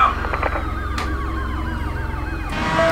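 Corvette police cars in the Driver San Francisco video game wail with warbling sirens over a low engine drone, a sharp burst cutting in midway.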